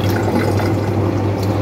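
Water runs from a Philips AWP303 water purifier in a steady, loud stream, filling a container nearby with a continuous pouring gush.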